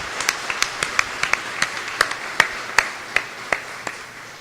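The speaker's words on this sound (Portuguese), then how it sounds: "Pode glorificar Deus com palmas." A church congregation claps in praise of God, a steady run of sharp, fairly close handclaps in an even rhythm, slightly uneven in loudness, with no talking over them.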